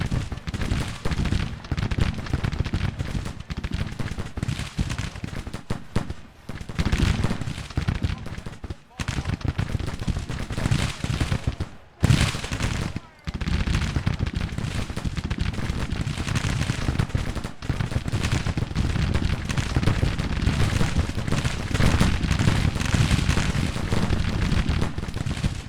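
Continuous musket volleys and cannon fire from a Civil War battle in the strategy game Grand Tactician: The Civil War, dense and loud throughout with brief lulls, under occasional voices.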